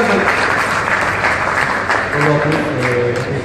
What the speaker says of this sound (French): Un gros applaudissement, c'est Osman